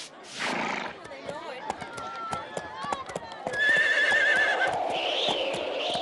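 A cartoon horse in a Tamil animated series lets out a long, loud neigh after rhythmic clip-clop hoofbeats, with people talking in the scene.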